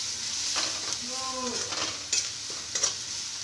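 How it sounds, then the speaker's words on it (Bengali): A spice mix fries in a pan while a utensil stirs and scrapes through it, giving a soft sizzle broken by a few sharp metallic clicks against the pan, close and brief. "এই মশলাটাকে একটু ভালো করে ভেজে নিয়ে"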